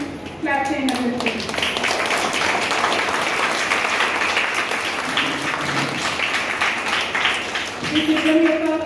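Steady, dense clapping from an audience opening a children's training camp on Sanatana Dharma, starting abruptly and running several seconds, with speech heard before and after the burst.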